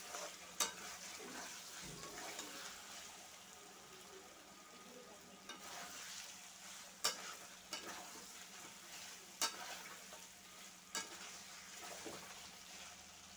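Meat that has been browned in a pan sizzles and bubbles steadily as hot water is poured in, with a few sharp utensil clinks against the pot standing out at intervals.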